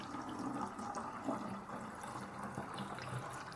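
Homemade water kefir poured through a plastic mesh and small funnel: a faint, continuous trickle and splash of liquid, soft and close, with no talking.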